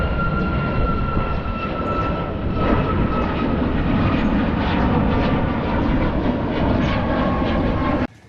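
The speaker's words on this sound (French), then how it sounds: "On voit l'avion décoller juste là." A plane taking off in Cape Verde, heard as a steady, loud, broad engine roar that holds for about eight seconds before cutting off abruptly.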